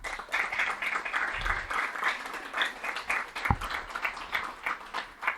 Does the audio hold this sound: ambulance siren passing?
no